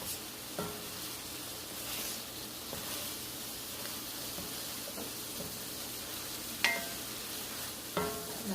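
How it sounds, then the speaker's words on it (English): Cajun chicken shrimp pasta is stirred in a skillet, with a soft, steady sizzle underneath and a few distinct spoon clicks against the pan, quiet and without talking. "We're just going to continue to give this thing a stir, making sure that the shrimp, of course, doesn't stick to the bottom of the skillet."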